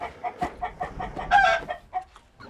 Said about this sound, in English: So the rooster we just put in there is the rooster from this flock.